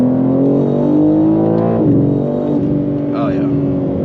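A tuned 700-horsepower BMW G80 M3 running on E85 mixed fuel pulls hard on a highway, its engine note climbing loud and close from inside the cabin, with a voice audible over it.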